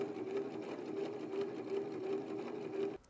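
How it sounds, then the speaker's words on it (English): A sewing machine fitted with a gathering foot stitches a single layer of fabric, giving a steady close whirring hum with a fast rhythmic pulse that runs for about three seconds and then stops abruptly. "Since you've made all the adjustments, you are able to just begin to sew."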